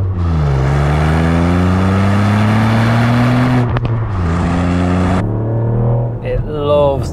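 Turbocharged Ford Puma ST engine with 200 horsepower and a six-speed manual revs hard, its pitch climbing steadily, then a brief gear change before it pulls again, loud and close throughout.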